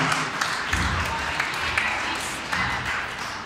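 A school hall audience applauds a rockabilly band leader with steady, moderately loud clapping and a few sharper claps standing out, continuing for several seconds.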